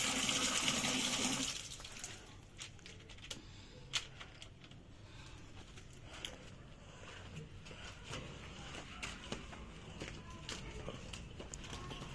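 Water being poured for calves on a farm gushes loudly at first, then quiets to a lower trickle and splashing, with scattered knocks and clatter in the background.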